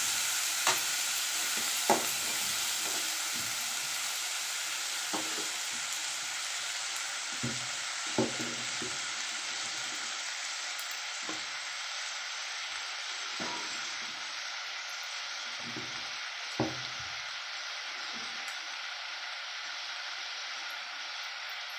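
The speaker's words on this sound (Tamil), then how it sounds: "அப்படியே சிம்மில் வச்சு வதக்கிடுங்க" Sautéing over a low flame for an anchovy fish curry (nethili meen kuzhambu): a soft, continuous frying hiss with occasional spoon scrapes and clinks against the pan spaced irregularly throughout.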